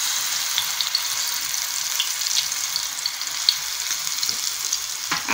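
Chilies frying in hot oil for an okra curry, a steady close sizzle with fine crackling pops that holds evenly throughout, with no talking.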